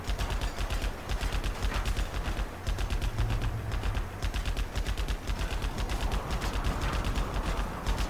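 Rapid rhythmic bursts of automatic gunfire from units in the strategy game Command & Conquer Generals Zero Hour rattle on continuously, dense and steady, with no talking.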